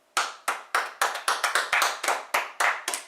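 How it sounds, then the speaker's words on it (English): A small group clapping in loose, uneven bursts, about a dozen sharp claps over a few seconds, close and fairly loud with no voices. "give him an applause for actually doing this on the fly"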